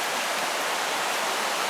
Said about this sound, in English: Little brook next to us